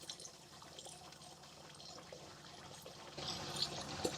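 Water draining and running out of the pipes of a VW T4 van's water system, a soft continuous trickle and splash that grows louder and fuller toward the end.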